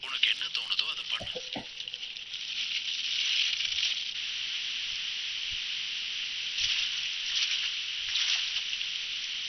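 Rain falling in an anime episode, a steady hissing wash that persists throughout at moderate loudness, with a few brief thumps near the start.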